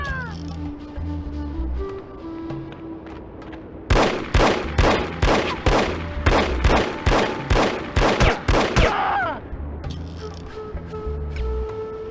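Gunfire in No One Lives Forever on PS2, heard as a rapid burst of loud, close shots in a rhythmic volley over several seconds, set against a quieter musical background before and after.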